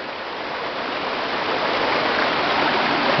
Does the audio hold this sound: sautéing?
no